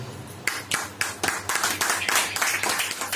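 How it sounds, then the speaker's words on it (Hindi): An audience at a church sermon claps in uneven bursts, a scattered round of hands growing denser and steadier, moderately close with some room echo. "ताली बजाइए।"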